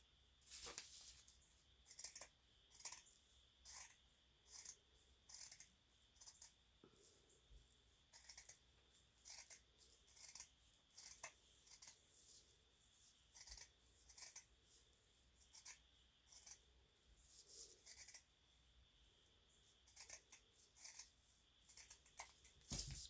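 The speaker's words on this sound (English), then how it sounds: "so now I'm going to cut him out" Scissors cutting through folded burlap fabric, a long run of crisp, close snips in irregular bursts with short pauses between cuts, quiet and with no voice.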